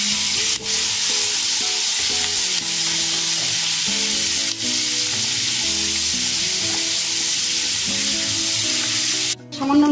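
Capsicum, onion cubes and dried red chillies sauté in a hot pan with a steady, loud sizzle and occasional stirring scrapes throughout, with no talking.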